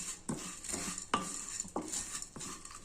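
Metal spatula scraping and stirring eggplant pieces frying in a pan for vangi bath, several distinct strokes in a short, irregular rhythm, close and moderately loud with no voices.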